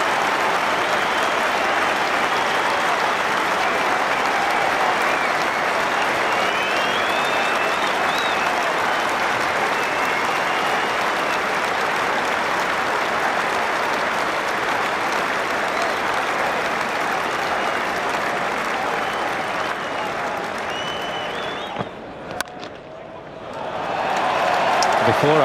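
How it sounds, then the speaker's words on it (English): Sustained applause and cheering from a large crowd at Lord's cricket ground during an England versus Australia Test, a dense even roar lasting over twenty seconds before dropping away sharply near the end. "Huge cheers from the crowd here at Lord's."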